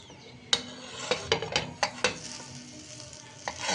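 A vegetable sandwich sizzles in a pan while being toasted and fried, with a soft continuous sizzle broken by a series of sharp scraping and tapping knocks from a utensil against the pan.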